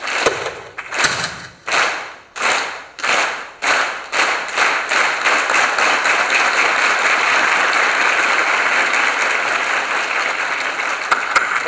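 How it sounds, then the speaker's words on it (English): A faculty meeting audience performs a union clap: slow, widely spaced unison claps that speed up steadily until they merge into loud, continuous applause that carries on to the end. "What do you do is you clap very slowly at first and then get faster and faster"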